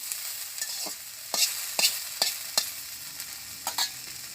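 Onions stirred in a hot pan in a village kitchen, a soft sizzle under several sharp scraping strokes of a spatula, close and fairly quiet, no voices.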